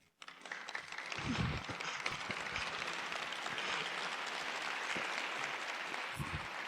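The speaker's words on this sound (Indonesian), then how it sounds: "ya beri tepuk tangan saja" An audience at a corporate talk bursts into applause, a steady wash of many hands clapping that holds evenly for several seconds, fairly quiet and distant, with a few faint voices beneath.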